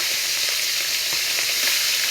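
Fish frying in hot oil, giving a steady, dense sizzle with small crackles and pops, close and continuous throughout with no voices.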